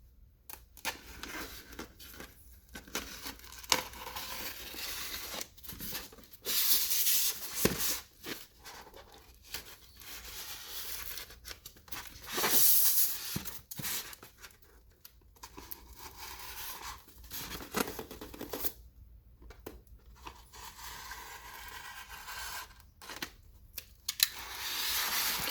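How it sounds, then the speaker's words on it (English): Packaging foam is cut by hand while a statue is unboxed, giving close, irregular scratchy snips and crinkles with quiet gaps. No speech. "Now we cut the foam."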